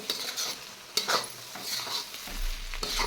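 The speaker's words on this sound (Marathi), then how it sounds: "आता पुन्हा आपल्याला दोन तीन मिनिट भाजून घ्यायचं आहे म्हणजे आपल्या हळदीचा कच्चापणा निघून जातो" Spices with turmeric roasting in a pan for a large batch of poha: a gentle sizzle with intermittent metal scraping and stirring from a spoon against the pan, close and moderately quiet.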